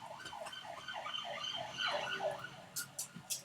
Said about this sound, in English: a lot of sirens just blasted past my house